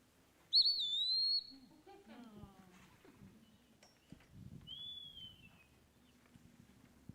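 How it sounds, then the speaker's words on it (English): A wood-pewee's slurred whistled call, played during an Audubon chapter meeting: a loud rising-and-falling whistle, then a fainter drawn-out whistle later, with room noise and talk around it. "his call sounds like pee-a-wee"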